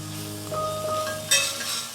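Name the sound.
chicken noodles stir-fried with two spatulas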